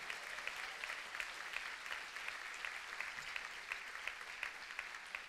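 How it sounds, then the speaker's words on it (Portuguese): A church congregation applauding during a sermon, an even, continuous wash of clapping from many people, fairly soft and steady with no speech over it. "Aplauda o nome de Jesus, dá um glória a Deus aí"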